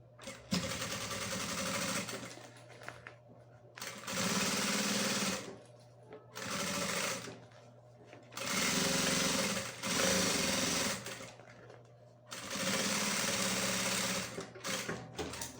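Sewing machine stitching the lining of a crossbody bag, with a longer stitch setting: several steady whirring bursts of a couple of seconds each, separated by short pauses, close and fairly loud.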